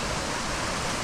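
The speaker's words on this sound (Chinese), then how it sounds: "哇，看到瀑布了" Steady, dense rush of a waterfall on the Beikeng Creek trail near Xuejian in Tai'an, Miaoli, a continuous broadband roar filling the whole moment with no pauses.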